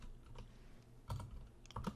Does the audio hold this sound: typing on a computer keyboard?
yes